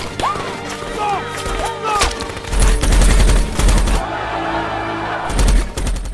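Bursts of automatic gunfire from a special forces war film crackle in rapid volleys over a dramatic score, with shouting voices and heavy thumps mixed in, loud and dense.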